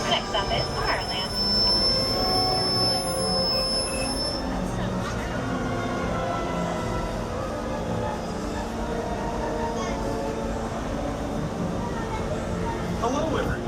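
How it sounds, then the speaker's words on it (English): A Disneyland Railroad train rolls steadily along its rails with a continuous low rumble and faint wheel squeal, close by, while announcements and voices carry over the top. "Thanks for joining us on the Disneyland Railroad."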